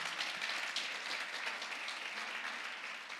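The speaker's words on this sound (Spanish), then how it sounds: "¿qué les parece si les damos un aplauso a cada uno de los que están aquí?" A church congregation in Durango gives steady, fairly faint applause from many hands, a dense even wash of clapping lasting the whole stretch without any talking.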